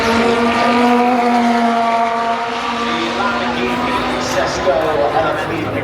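A Danish 1,850-horsepower hypercar with a carbon monocoque runs at the Goodwood Festival of Speed 2025, a loud engine note with shifting pitch holding steady throughout under a commentator's voice.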